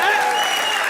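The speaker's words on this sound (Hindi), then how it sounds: "तालियां!" Studio audience at a televised comedy roast bursts into brief applause and cheering, a short loud wash of crowd noise with voices mixed in.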